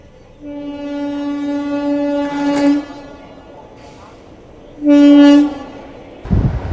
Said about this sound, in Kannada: ಈಗ ನಮ್ಮನ್ನು ಶತಾಬ್ದಿ ಓವರ್ಟೇಕ್ ಮಾಡೋದೈತಿ.